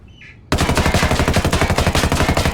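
A P416 assault rifle fires a sustained full-auto stream in Ghost Recon Wildlands, with rapid, evenly spaced, loud shots after a brief quiet start.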